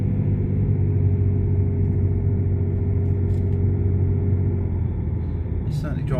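Range Rover L322 Vogue on a road test after an ABS wheel sensor change, a steady low engine and road rumble from inside the cabin, continuous and fairly loud with a faint rattle near the end.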